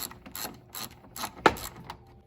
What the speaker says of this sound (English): And then we go ahead and loosen up the bolts here for the headlights.